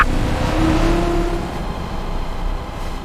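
Game car engine revving up and holding a rising tone just after the car is stolen, loud with steady low rumble throughout and no voices.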